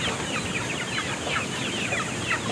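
A flock of backyard chickens, including Brahma, clucks busily and continuously up close, with overlapping chattering calls and a steady hiss of background noise.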